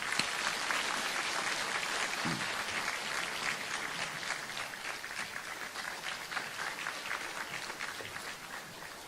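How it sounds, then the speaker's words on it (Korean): A church congregation gives warm, sustained applause for a brother sharing a Christmas baptism testimony, an even roomful of clapping at moderate level that continues without a break. "박수 좀 해주세요. 박수."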